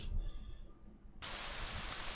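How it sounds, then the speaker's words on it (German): Rain in the video game At Home Alone begins abruptly as a broad, even hiss that switches on partway through after a quiet stretch and then holds steady, soft and without pauses. "Es regnet."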